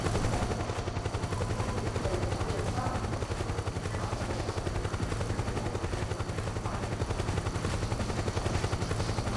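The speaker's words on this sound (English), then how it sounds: "Trying to hide from the chopper." Helicopter rotor chopping overhead in Metal Gear Solid 4, a steady low pulsing drone that holds loud and unbroken throughout, with scattered gunfire-like crackle mixed in.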